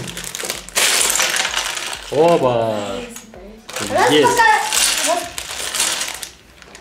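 Small LEGO City plastic pieces spill and clatter from a freshly opened bag in a short, bright rattling burst, with a close voice exclaiming and talking around it.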